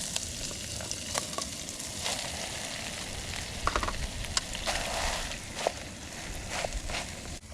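Corned beef fried rice with vegetables sizzles in a pan over medium heat outdoors, a steady frying hiss broken by scrapes and clinks of stirring, close and moderately quiet.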